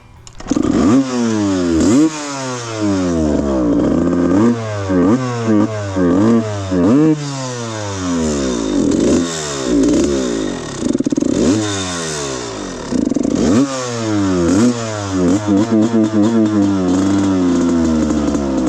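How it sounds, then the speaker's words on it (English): A rebuilt Suzuki RM125 two-stroke dirt bike engine running and revving hard in loud repeated bursts, the pitch rising and falling sharply, close by, with brief drops to idle between blips. "So let's see how different the 125 two-stroke is from the 85."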